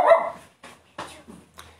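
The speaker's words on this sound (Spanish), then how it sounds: "Mi perrito." A small pet dog barks indoors, a few short sharp yaps spaced irregularly, close and moderately loud, with no talking.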